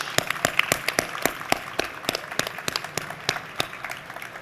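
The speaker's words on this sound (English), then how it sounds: "Please give a big round of applause to the great panelists" Attendees at an energy security and decarbonization conference applaud the panelists with sharp, distinct claps close by, a sparse but steady round from a smaller group.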